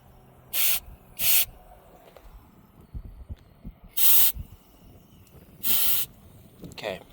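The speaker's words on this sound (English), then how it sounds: "the way to get rid of, purge this yellow line is just let some freon out" Freon venting from a Humvee AC line being purged, four sharp, loud bursts of hiss, each lasting about half a second, separated by quiet handling noises and soft clicks.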